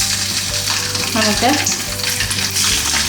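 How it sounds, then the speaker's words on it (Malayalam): Hot oil sizzles and crackles steadily in a pan while dried fish is fried for a traditional Kerala curry, loud and close, with a brief spoken word over it. "നമുക്ക് ഉണക്കമീൻ വറുക്കാം."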